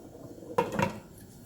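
A pot lid clatters down onto a pot of simmering soybean pulp stew (kongbiji), one sharp metallic clank followed by a brief rattling settle, close and fairly quiet.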